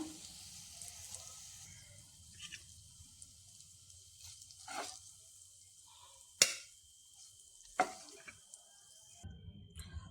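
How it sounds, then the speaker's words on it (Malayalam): Chicken pieces frying in oil in a pan, a faint, low sizzle nearby interrupted by a few sharp clinks and scrapes of utensils, with no one talking. "എല്ലാം മറിച്ചിട്ട് കൊടുത്തു മറു സൈഡും കൂടി വെന്ത് കിട്ടണം"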